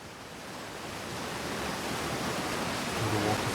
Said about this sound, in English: There's a waterfall there, that's very nice.